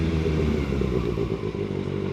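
Kawasaki Ninja ZX-6R motorcycle ridden in rain mode, its engine droning steadily and close up with a rough, even hum and faint clatter throughout, no talk over it.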